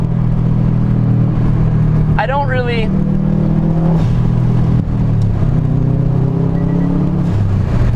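Engine of a ten-year-old Subaru blobeye Impreza WRX STi while driving, a continuous low rumble that rises and falls with revs and gear changes, heard from inside the car beneath someone talking throughout.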